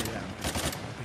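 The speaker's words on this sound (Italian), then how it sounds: "Perché mi spari in questo?" Rapid gunfire bursts in the action game Uncharted: The Lost Legacy, dense and continuous across the second, with a louder cluster midway, mixed under faint game sounds.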